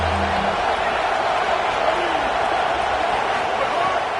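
Stadium crowd noise from the College Football 27 video game, a steady, dense roar sustained throughout during a big third-down defensive play, with no speech over it.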